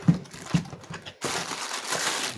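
Branded plastic packaging around an EBS truck pressure regulator is handled and torn open: two sharp crinkles, then a sustained rustle and crackle of plastic close up.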